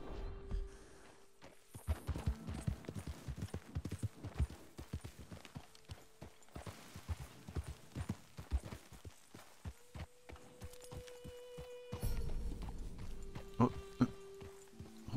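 Rapid hoof clip-clops patter steadily throughout, with a sustained tone and occasional brief game-like sounds layered over the rhythmic hoofbeats. Horse hooves in the video game Red Dead Redemption 2.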